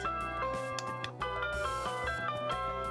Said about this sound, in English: To change the chime, simply push the button to choose the one you want.